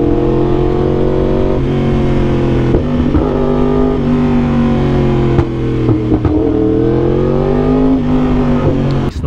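Yamaha R1 superbike with an SC Project exhaust, the engine loud and close as it is held at high revs, with repeated blips that rise and fall and a raspy, droning exhaust note throughout.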